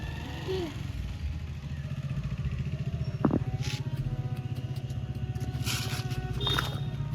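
A nearby motorcycle engine runs at a steady, moderate level throughout, with a brief scraping knock partway through and faint higher noises toward the end.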